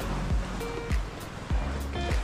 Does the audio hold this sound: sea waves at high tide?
yes